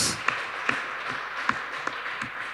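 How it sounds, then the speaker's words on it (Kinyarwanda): A church congregation claps in praise of God, a scattered run of sharp claps spread over a few seconds against a roomy background murmur. "Komera Imana yacu amashyi."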